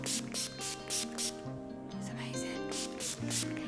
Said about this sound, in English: And just spray even more, because this stuff is amazing.